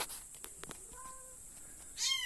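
A cat meowing from up in the hay of a barn loft, a few faint, thin mews spread over the stretch, with a fuller meow at the end and a low hiss of background noise.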